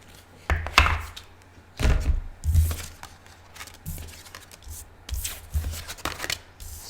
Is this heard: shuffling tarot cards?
yes